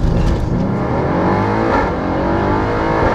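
A 750 hp 2018 Audi RS7 revs hard at a drag strip, its engine note loud and close as it climbs steadily with no talk over it.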